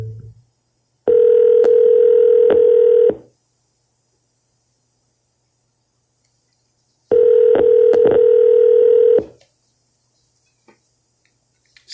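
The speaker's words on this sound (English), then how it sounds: "You can leave a message after the tone." A phone call's answering-machine tones sound as two loud, steady electronic beeps of about two seconds each, spaced several seconds apart with silence between them.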